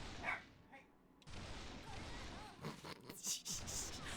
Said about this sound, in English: I love when he talks back as he's barking.